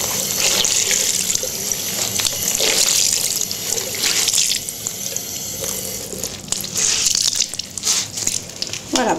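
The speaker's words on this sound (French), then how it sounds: "Vous rincez." Hands rinsed under a running tap into a sink, with a steady close rush of water and splashing that shifts as the hands move through the stream.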